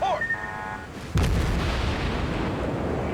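Naval artillery firing in the World of Warships game: after a brief whistling tone, one heavy, loud boom erupts and fades into a long, rumbling roar that fills the rest of the moment.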